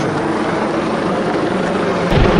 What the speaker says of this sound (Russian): это спасательная служба, вертолет спасательной службы